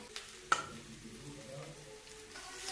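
Vegetables and a fried spice mix are stirred in a pan for a sandwich filling, giving a soft scrape and a clack of the utensil over a faint, low sizzle, close and quiet, with no talk.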